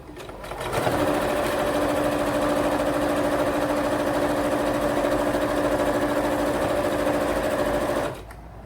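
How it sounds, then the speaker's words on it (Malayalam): A sewing machine stitches the side seam of a fabric basket with a half-inch seam allowance, a steady, even mechanical whir that starts after a brief pause, runs continuously for about seven seconds, then stops abruptly. "1/2 ഇഞ്ച് തയ്യൽ തുമ്പ് വിട്ട് നമുക്ക് തയ്ച്ചെടുക്കാം."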